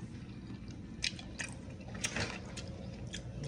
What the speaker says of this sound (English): Let's taste the carrots with the gravy.